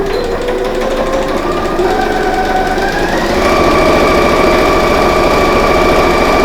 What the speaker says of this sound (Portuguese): Vou para a máquina de costura, pezinho de máquina aqui somente nesta lateral.